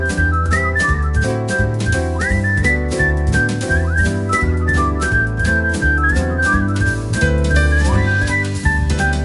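A loud whistled tune plays over a steady rhythmic backing as a show opener, with pitched melodic phrases throughout and no talk.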